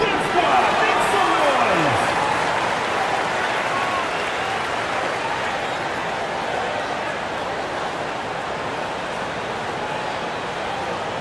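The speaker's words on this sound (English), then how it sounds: "Please give a big round of applause" During a timeout in an NBA basketball video game, a crowd applauds in a broad, continuous wash of clapping and cheering that holds steady across the clip, with an announcer's voice faintly mixed in.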